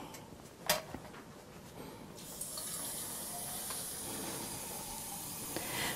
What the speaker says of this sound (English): So now we are filling it half full with water.